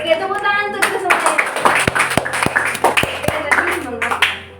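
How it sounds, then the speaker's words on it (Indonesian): A classroom group claps together in a school guidance-counselling session, with scattered sharp claps that build into a short burst and run under a teacher's speech and singing voices. "Oke, tepuk tangan untuk kita semuanya."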